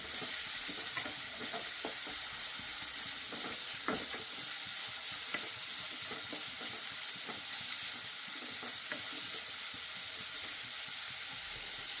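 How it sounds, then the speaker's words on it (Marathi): Onions frying in hot oil until golden, a steady close sizzle and crackle with occasional stirring clicks, continuing for several seconds without any talking. "तेल घालून तितून कांदो घातलो तो बरो गोल्डन फ्राय जावपा जाय"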